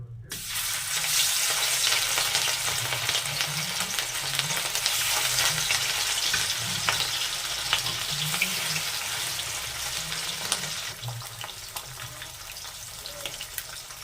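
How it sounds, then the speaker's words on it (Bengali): Rui fish pieces frying in hot mustard oil, giving a loud, continuous crackling sizzle that stays steady and close throughout, with no voices. "তেল গরম হয়ে গেছে, এবার মাছগুলো আমি ভেজে নেব।"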